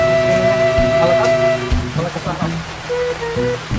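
Steady rain pours outdoors over a workspace where a vehicle transmission is being removed, a dense hiss running throughout, with tonal hums and clanks early on and scattered knocks later.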